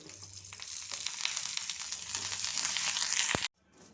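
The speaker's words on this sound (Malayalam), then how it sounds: "ഇനി അടുത്തതായിട്ട് വറുത്തെടുക്കുന്നതെന്ന് പറഞ്ഞാൽ കറിവേപ്പിലയാണ്" Curry leaves sizzle and crackle loudly in hot oil, the frying growing stronger before cutting off abruptly near the end.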